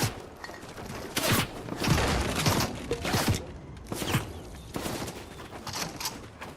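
Bursts of gunfire in the Fortnite video game, several volleys of rapid shots and thuds spread over the stretch, moderately loud with short gaps between them and no talking.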